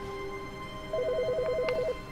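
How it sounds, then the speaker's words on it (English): An electronic office telephone in The Stanley Parable rings with a warbling, trilling tone for about a second over a quiet hum, with a couple of faint clicks. "Why is the phone ringing?"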